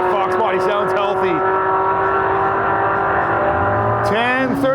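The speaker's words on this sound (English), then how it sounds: "Man, that Fox body sounds healthy." A Ford Fox body drag car runs at full throttle at a drag-and-drive event. The engine note is loud and sustained, and a commentator talks over it before a higher-pitched whine rises near the end.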